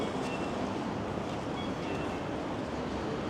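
Blustery wind rumbles continuously across a downtown Vancouver street, a dense, steady roar of air buffeting the microphone without pause.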